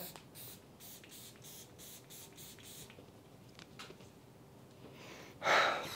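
A perfume atomizer on a fragrance bottle releases a single short, hissing burst of mist near the end, close and clear after a quiet stretch of faint handling taps.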